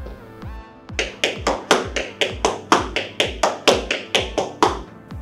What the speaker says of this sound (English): starting with a spank, dig, heel, heel, spank, dig, heel, heel